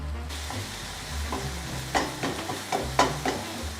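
Ground beef with taco seasoning cooks in a pan, giving a steady close sizzle broken by several sharper scraping stirs toward the end, with no talking.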